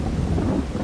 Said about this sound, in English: I know it's a bit shitty that it's raining